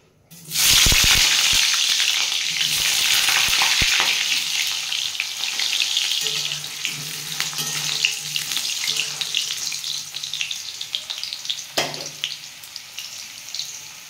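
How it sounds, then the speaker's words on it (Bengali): Potatoes for a chicken curry drop into hot oil in a wok with a sudden loud burst of sizzling, which settles into a steady, close crackling hiss that fades slightly over time. "আমি এবার মধ্যে মাংসের আলুগুলো ভেজে নেবো"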